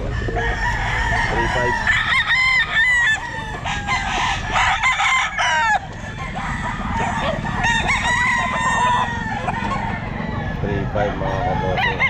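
A young rooster, a stag of El Gamma Grey Palawan Gold line, crows repeatedly at a busy pet market, loud and close, with someone talking over and between the crows and other fowl clucking nearby.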